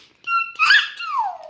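A voice imitates a chicken's call, a short squeaky crow that rises in two bursts and then slides downward, close and alone.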